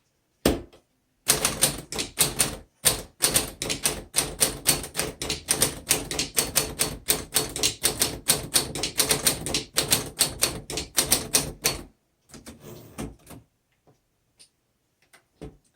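A 1936 Corona Standard typewriter is typed on rapidly and loudly up close, producing dense clattering keystrikes for about eleven seconds before stopping. A few sparse clicks follow.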